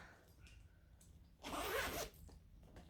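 Recessed zipper on a sewn Sugar & Spice bag drawn once, a short close rasping zip in quiet surroundings.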